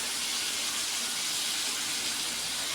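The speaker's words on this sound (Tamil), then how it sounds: "லைட்டாக கொஞ்சம் தண்ணி ஊற்றிக்கலாம்." A little water poured into a pan of frying spiced potatoes sets off a loud, dense steam hiss that fills the whole moment without pause.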